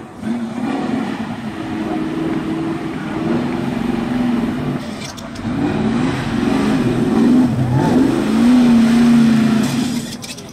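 A car engine revs and drones loudly at a rap video shoot in the Los Angeles river, pitch rising and falling in repeated surges for about ten seconds.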